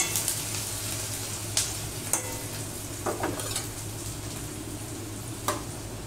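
Onion fries in a pan for a green banana kofta curry, a continuous close sizzle with occasional spatula scrapes and clinks against the pan, no talking.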